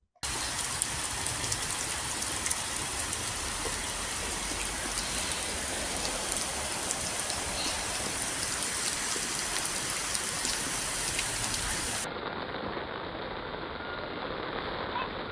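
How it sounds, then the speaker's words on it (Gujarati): Steady rain falls during heavy monsoon flooding in Surat near the overflowing Kumbhariya creek, a dense, continuous hiss of drops on surfaces heard alone at a moderate, even level. "ત્યાં છે વરસાદ કે રહી ગયો? અહીંયા ચાલુ છે"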